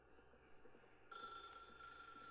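A telephone rings in the video game The Stanley Parable, starting quiet and muffled, then jumping to a louder, bright repeating electronic trill about halfway through, with no talk over it.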